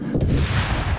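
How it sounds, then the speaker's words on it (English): A Stinger missile launcher fired in Modern Warfare Remastered, a heavy low boom with a rumbling blast that fills the whole short moment, loud and close. "So, grab another Stinger and fire again"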